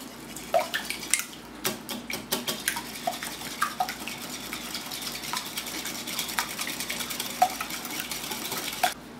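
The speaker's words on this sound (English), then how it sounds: "So we're going to do 2 eggs and then a quarter cup of sour cream. And we're going to mix those all together." Eggs and sour cream whisked together in a mixing bowl, with a steady run of light clinks and taps from the utensil against the bowl, close and fairly quiet, and no talking.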